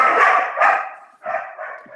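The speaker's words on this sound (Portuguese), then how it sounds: "perdão, é o meu cachorro que manda cumprimentos a todo mundo." A dog barks loudly and close by in a few rough, sustained bursts, with no speech.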